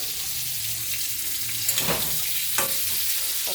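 Pointed gourd (potol) pieces fry in oil in a covered pan, giving a continuous soft sizzle with a couple of brief sharper crackles. No one speaks.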